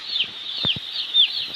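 Broiler chickens on a poultry farm chirping and clucking softly in a quiet shed, with a couple of brief low thumps and bird calls repeating every half second or so.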